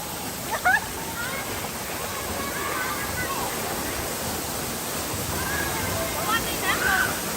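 Mork Fa Waterfall in Mae Taeng, Chiang Mai, Thailand roars steadily as dense, constant rushing water, with faint voices calling now and then.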